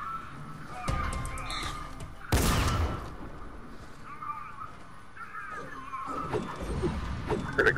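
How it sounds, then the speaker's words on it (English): A single loud, sharp gunshot bursts out in a video game, cutting through low background game ambience with a few faint bird-like caws and calls around it. "Heard a gunshot."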